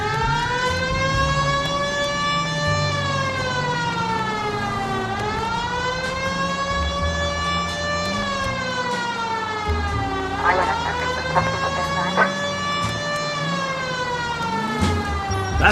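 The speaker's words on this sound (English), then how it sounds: "Turn on the siren and pull her over." Police car siren in the video game L.A. Noire wails continuously and loudly, rising and falling in long sweeps, with a running car engine rumbling beneath and a few brief clicks near the end.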